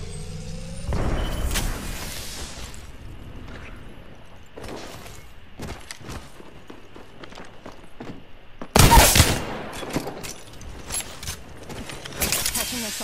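Gunfire from the Apex Legends battle game, a scattered series of sharp broadband shots with one loud, dense burst near the middle, set over steady game ambience and faint mechanical noise.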